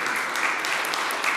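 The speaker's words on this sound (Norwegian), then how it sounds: "Nå må dere klappe lenge, for han er langt igjen opp til scenen." Audience at a Norwegian conference clapping steadily and loudly for someone walking up to the stage, a dense continuous applause from a large crowd with occasional sharper claps.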